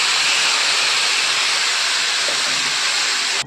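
Gongura leaves hit hot oil seasoned with garlic and curry leaves, setting off a loud, dense, steady hissing sizzle that holds close and strong, then cuts off abruptly at the end.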